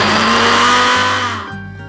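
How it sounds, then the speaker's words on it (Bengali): A blender whirs loudly through peri peri sauce ingredients, a strong motor drone with a brief dip near the middle before winding down at the end, close and alone. "এখন আমি এগুলোকে ব্লেন্ডার করে নিব"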